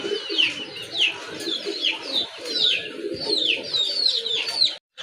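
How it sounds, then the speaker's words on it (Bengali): Large Boro Payra pigeons from Gopalganj, kept as a pair in a red colour, call over and over in a busy flock, a steady stream of repeated close calls with a murmur of other birds underneath. "এটাও কিন্তু বড় পায়রা কবুতর, গোপালগঞ্জের অনেক বড় সাইজের কবুতর।"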